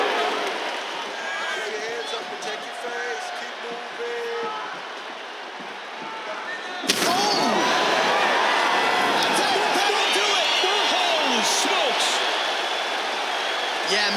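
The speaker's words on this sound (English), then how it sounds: "crowd loving it" Arena crowd noise in a UFC 5 fight-night video game surges at a fight-ending shot, a broad loud roar of cheering that swells midway and holds steady, with a commentator talking over it.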